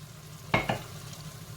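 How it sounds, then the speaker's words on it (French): Harissa fries in a pot on a Tunisian fish couscous stove, giving two quick sizzling, stirring bursts close by before fading to a faint hiss. "الهريسه نتاعنا تتقلى بالكدا"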